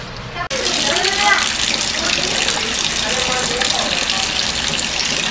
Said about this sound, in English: Run under hot water a few minutes.